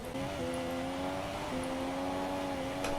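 F1 race car engine in the F1 2017 video game holds a high, steady tone with slight pitch dips as the driver pushes for lap time, continuous and fairly close.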